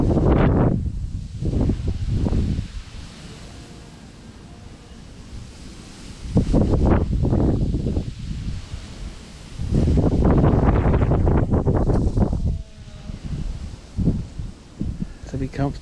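Strong gusts of wind buffet the microphone beside the River Thames during a winter fishing match, coming in loud bursts separated by calmer stretches.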